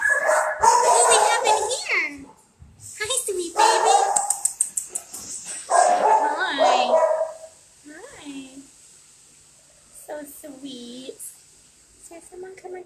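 Dogs bark and yip at an animal shelter, with loud bursts mixed among people talking close by and quieter whimpers between them.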